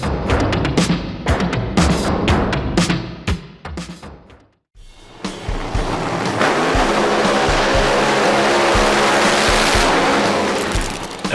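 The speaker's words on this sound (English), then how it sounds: "There's nothing like a bit of drag racing to get the adrenaline pumping." Ford drag racing cars at the Ford Nationals light up their tyres, loud engine roar and tyre noise with bursts and crackles, a brief drop near five seconds, then a sustained heavy wall of engine and smoke-spinning tyre noise.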